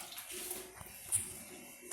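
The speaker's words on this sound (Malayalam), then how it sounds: "അതിലേക്ക് കുറച്ച് വെള്ളം ഒഴിക്കാം, എന്നിട്ട് ഇതൊന്ന് വേവിച്ചെടുക്കാം." Water poured into a pan of chicken for a dates chicken roast, a soft, faint splashing pour lasting a couple of seconds, heard up close with no talk.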